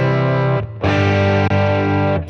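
A Boss GT-1000 Core guitar processor switching between plate and hall reverb patches: a sustained electric guitar tone cuts out abruptly for a brief silent gap as the patch reloads, then the sound resumes.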